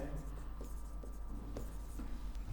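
Chalk or pen scratches and taps across a board in short irregular strokes during a literature lesson, faint and close, with a teacher's voice partly underneath.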